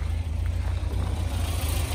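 A 1968 Volvo P1800 S with a 1.8-litre four-cylinder engine idles steadily, a low even rumble with a constant throb, close and unbroken, no voices.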